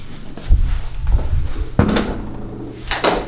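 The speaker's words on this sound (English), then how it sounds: "Got a private toilet with a door that you can close." Door of a private toilet in a Hard Rock Punta Cana hotel room, a few close wooden knocks and thuds as it is moved and shut, with a firmer bump midway and another near the end.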